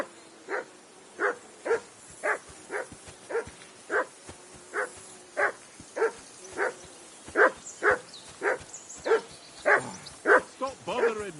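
Mutt, the dog in Kingdom Come: Deliverance 2, barks over and over in a steady series of sharp, close barks, about twenty in all, speeding up near the end.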